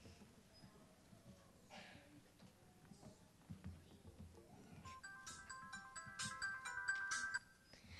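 A telephone rings with a bright, repeating electronic tone during a third-grade elementary school concert skit, coming in partway through over a murmuring audience and stage noise.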